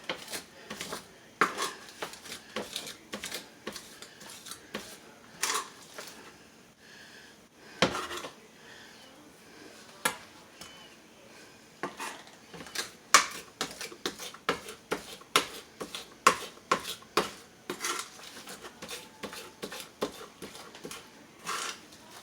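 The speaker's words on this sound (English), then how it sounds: "when you mince your garlic, put a little salt on it" A knife minces garlic sprinkled with salt on a cutting board, giving rapid, irregular close chopping taps that cluster in bursts with brief pauses, loud and crisp with no talking.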